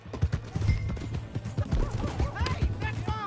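Horse hooves clip-clopping in a western video game, a quick close rhythmic trot of clattering hoofbeats with a whinny, under shouting voices.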